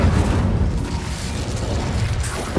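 An Incendio fire spell cast in the game Hogwarts Legacy, a loud burst that opens with a rumbling whoosh and fades into a steady roaring rush.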